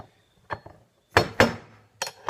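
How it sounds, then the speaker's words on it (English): Several sharp metallic taps strike parts of a Stihl MS 192T chainsaw, close and distinct, in small uneven clusters with short silences between. "just be consistent and keep tapping it around and hitting on these sections"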